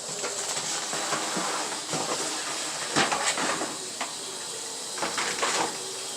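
Running water hisses steadily as a pan is rinsed at a kitchen sink while making homemade lasagna, with a few light metallic clanks of the pan against the sink breaking through the constant spray.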